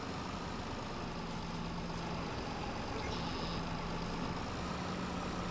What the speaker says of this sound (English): the tractor is actually struggling more with this windrower than it has with the Kubota